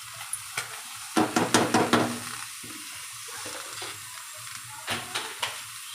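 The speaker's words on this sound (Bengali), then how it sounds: "তাহলে পুঁটি মাছটা ভাজা হইতেছে, দেখছো।" Small puti fish fry in a pan, a faint sizzle under a series of sharp spatula scrapes and clinks against the pan, clustered in quick bursts.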